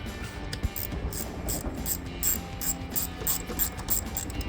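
A ratchet snugs 8mm bolts on a BBK 90mm throttle body being fitted to a 2008-2012 Dodge Challenger V8, giving steady, rapid, close pawl clicking throughout with no talking.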